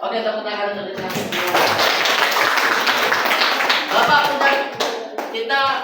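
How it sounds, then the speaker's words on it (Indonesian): A classroom of students in Indonesia claps together, a dense burst of applause rising after a few seconds and fading into scattered claps, with voices talking before and through it. "Oke, tepuk tangan untuk disambung."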